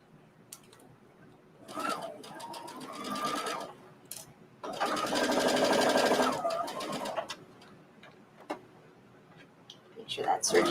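Serger sewing machine running along a fabric edge in short bursts, a fast mechanical whirring that starts and stops several times, with the longest run near the middle and quiet handling between.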